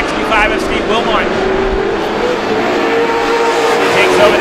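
Outlaw race cars roar around Star Speedway, a loud, dense wall of engine noise from a feature race with several cars close together and a tone that sweeps as they pass.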